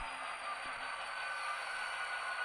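A model train hums and rattles steadily along its layout track, a faint continuous whir with a thin high whine, no voices.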